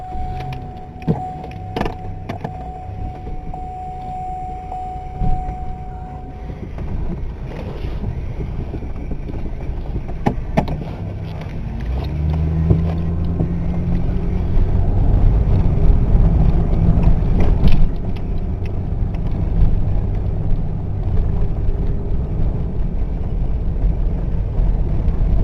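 A 1993 Buick LeSabre on a test drive after a toe adjustment, heard from inside as a clicking and rattling start, then a steady low engine and road rumble that grows fuller as the car gets under way.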